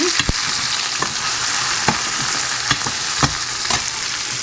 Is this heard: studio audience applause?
no